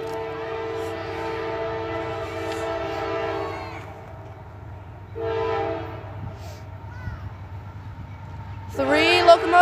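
Freight train locomotives, at least three, sound a loud multi-tone horn in a long blast, a pause, a shorter blast, then another burst at the end, over steady rumbling track noise.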